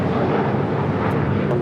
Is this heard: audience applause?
no